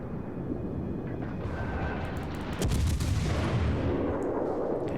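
Warship secondary guns fire in the World of Warships naval game, a rumbling battle bed with a heavy booming salvo midway followed by sustained low roar, fairly quiet overall.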